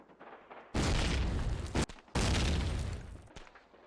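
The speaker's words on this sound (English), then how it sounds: "Let's see once again these nades into this middle area" Two loud, close grenade blasts in the Call of Duty: United Offensive multiplayer shooter, each a heavy roaring burst that rumbles for about a second before cutting off, with a brief gap between them.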